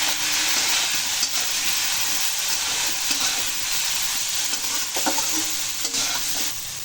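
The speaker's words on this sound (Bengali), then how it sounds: "হলুদটা আমি দু চামচ দেব আবার একটু নাড়াচাড়া করে দেবো" Turmeric stirred into food frying in a pan for a vegetarian bottle-gourd-leaf chorchori: a dense, constant hissing sizzle runs throughout, with a few soft utensil scrapes and knocks close by and no voices.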